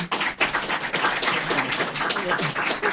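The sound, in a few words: audience applause for the panelists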